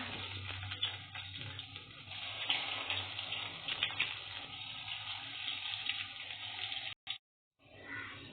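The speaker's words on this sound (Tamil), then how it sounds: "இப்போ ஒரு பாலாக நாங்கள் போட்டுக்கிறோம் எண்ணெயில்." Bread ball dropped into hot oil, frying with a steady, dense hiss and bubbling at close range. The sound cuts out briefly near the end, then the sizzle returns.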